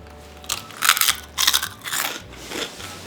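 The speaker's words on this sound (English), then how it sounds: "They're really crunchy, really delicious." Crisp crunching bites into a crunchy air-fried sourdough crouton, about three sharp crackly crunches up close, with quiet pauses between them.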